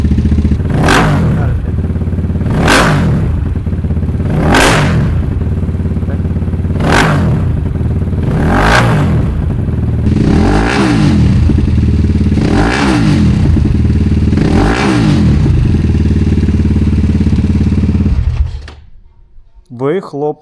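A Geon GNS 300 motorcycle engine with tuned exhaust revved repeatedly in sharp bursts, loud and close, each blip roaring through the exhaust then dropping back to a rumbling idle.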